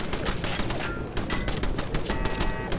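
Rapid automatic turret gunfire in the Fallout 4 video game, a dense, continuous rattle of shots running through the whole stretch with no talking.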